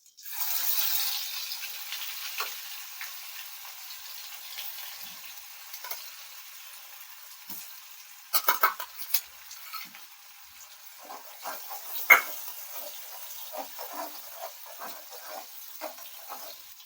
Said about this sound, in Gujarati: હવે આપણે વઘાર માટે ડુંગળી નાખીશું